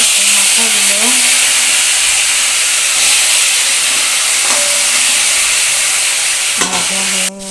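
Fish heads frying in hot mustard oil in a kadai give a steady, loud sizzling hiss throughout, with a few faint tonal sounds near the end.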